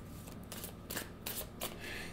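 Tarot cards being shuffled, a few quick riffling bursts close to the microphone at a low level, with no talking.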